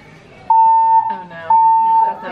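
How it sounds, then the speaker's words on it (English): Fire alarm sounding during an emergency evacuation at the Flight of Passage attraction: a loud steady electronic tone in two long blasts, each about half a second to a second, with people talking and exclaiming between and under them. "That's not a silent fire alarm anymore."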